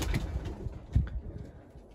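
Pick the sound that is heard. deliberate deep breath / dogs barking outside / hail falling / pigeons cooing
pigeons cooing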